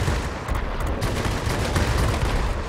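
Aircraft guns fire in World of Warplanes during a Fw 190 D fighter battle, a loud steady stream of rapid gunfire with rumbling engine noise, heard continuously without pause.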